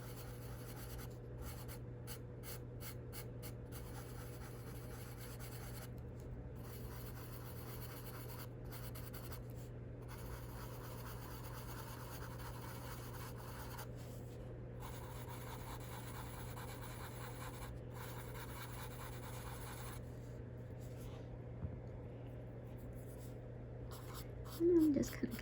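Colored charcoal pencil shading a light skin tone over paper makes soft, repeated scratchy strokes in short bursts with brief pauses, close and quiet against a low steady hum.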